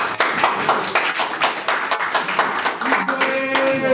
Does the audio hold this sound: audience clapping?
yes